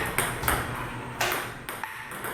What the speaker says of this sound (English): That's the sound of a human taking on a robot table tennis opponent.